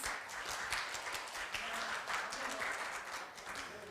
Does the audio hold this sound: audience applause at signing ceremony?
yes